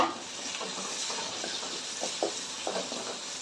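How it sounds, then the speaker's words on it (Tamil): Tomatoes sauté in a pan for potato masala, giving a quiet, steady sizzle with occasional soft scraping taps from stirring, heard close but faint. "தக்காளியை நல்லா வதங்கட்டும்"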